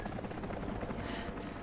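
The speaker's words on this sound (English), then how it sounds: "it's not so hidden if there's helicopters flying above it" A helicopter flies overhead in Rise of the Tomb Raider, its rotor making a dense, rapid low thumping that stays steady and quiet throughout.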